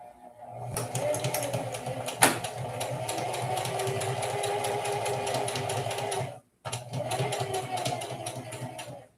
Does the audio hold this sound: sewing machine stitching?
yes